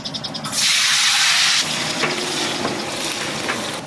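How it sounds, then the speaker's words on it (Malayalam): Mustard seeds dropped into hot oil for a star fruit pickle set off a loud, steady burst of hissing sizzle, which settles into lighter crackling with scattered sharp pops close up, and no voices. "കടുക് ഇപ്പൊ ചടപടാന്ന് പൊടിത്തെറിയാൻ തുടങ്ങി"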